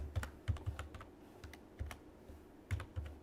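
Quick, uneven keystrokes rattle on a computer keyboard as code is typed during a programming lesson, the clicks close and clear with no talking.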